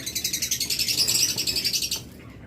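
Caged budgerigars and lovebirds at a bird seller's shop chirp in a rapid, steady stream of high tweets, close and fairly loud, fading out near the end.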